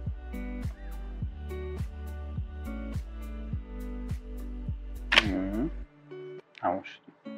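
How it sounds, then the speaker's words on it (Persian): The self-timer of a 1977 Nikon Nikkormat FT3 film camera fitted with a 50mm f1.4 lens runs with a steady mechanical whir and regular ticking pulses, then ends in a sharp shutter clack followed by a few softer handling clicks, all close up. "صدای تایمر."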